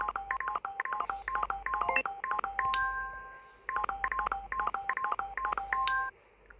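Rapid bursts of touch-tone dialing beeps repeat in quick rhythmic runs, each run ending in a longer held tone, clear and close.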